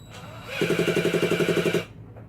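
Small nitro engine in a Schumacher Menace GTR RC car spun over by a drill, giving a rapid, even pulsing chug of about a dozen compression strokes over a little over a second, then stopping.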